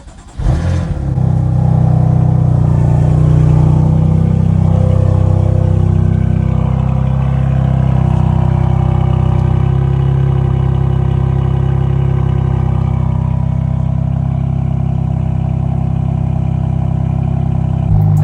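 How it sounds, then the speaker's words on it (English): A BMW engine cold-starts on a cold November day in Dublin, with a sharp crank and catch near the start, then settles into a loud, steady, close idle that drones on without talk. "let's get a quick cold start and let's drive off to a nicer location"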